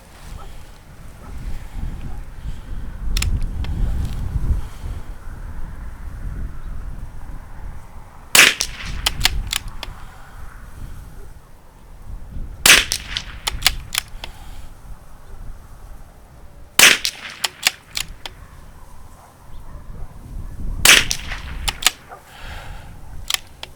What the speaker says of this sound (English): Shooting a group.